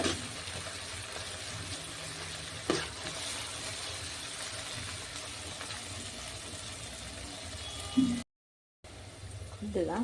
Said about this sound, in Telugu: ఆనియన్స్ని అయితే ఉడికిద్దామండి ఆయిల్లో